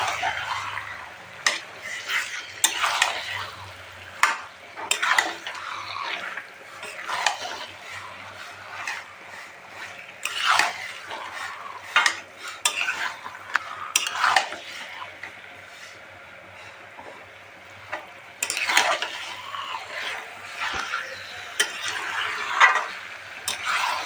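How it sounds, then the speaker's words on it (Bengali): Meat is stir-fried in a spice masala in a pan, with irregular scraping spoon clatters against metal over a soft sizzle, close and busy with quieter stretches between stirs. "এবার আমি মাংসগুলো দিয়ে দেবো। মাংসগুলো দিয়ে ভালো করে কষে নিতে হবে।"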